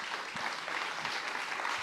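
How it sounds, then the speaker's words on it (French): An audience at a presentation applauds steadily, a dense wash of many hands clapping at once, fairly loud and continuous for a couple of seconds. "On l'applaudit."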